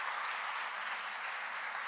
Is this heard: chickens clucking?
no